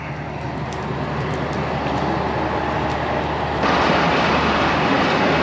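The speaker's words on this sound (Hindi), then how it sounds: "मुबारकपुर रेलवे स्टेशन पर छोटा सा स्टॉप करने के बाद अब रवाना हो रहे हैं" A passenger express train pulls away from Mubarakpur railway station on a branch line, a dense rumbling roar of wheels and carriage noise heard from onboard that swells louder partway through.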